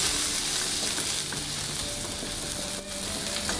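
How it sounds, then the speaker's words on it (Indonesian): Garlic and ginger sauté in a little oil in a pan, making a dense, even hiss that holds steady for a few seconds, close and loud, with no stirring knocks or talk. "Lalu sisakan sedikit minyak, tumis bawang putih dan jahe."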